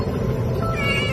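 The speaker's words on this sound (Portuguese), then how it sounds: "Esse gatinho preto foi retirado dos escombros de um prédio destruído 178 horas após o terremoto" A black kitten pulled from the rubble of a collapsed building after an earthquake gives a single drawn-out meow, close and clear over low background noise.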